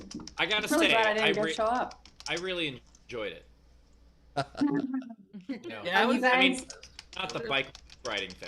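Loud clicking keystrokes on a computer keyboard run under casual conversation between two people.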